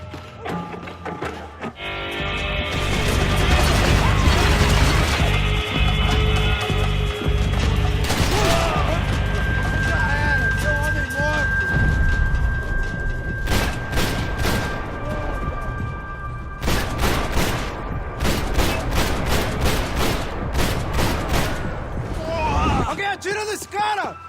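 Gunfire in the video game Max Payne 3, with loud bursts and booming shots spread across a dense, busy mix, including rapid clusters of sharp cracks near the end, under excited shouting.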